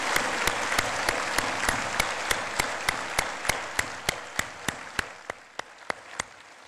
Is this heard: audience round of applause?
yes